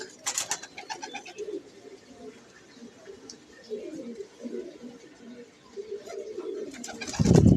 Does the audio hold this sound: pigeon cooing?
yes